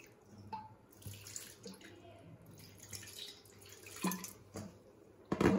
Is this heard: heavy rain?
no